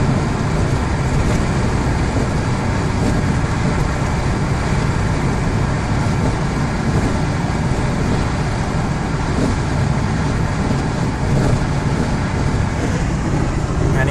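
Steady, loud road roar from inside a car cruising an Oregon highway with relatively low speed limits, a continuous broadband rumble of tires and engine with no pauses and no talking.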